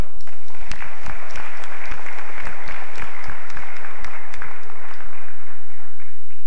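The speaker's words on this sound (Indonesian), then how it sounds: "Kita kasih aplaus." Audience applause at a lawyers' association chair candidate debate, loud sustained clapping from a large crowd filling the whole stretch, dense and even with sharp individual claps standing out.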